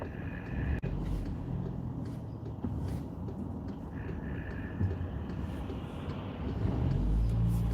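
A car passes at street level, a broad low rumble of engine and tyre noise that holds steady and swells slightly louder toward the end, with no talk over it.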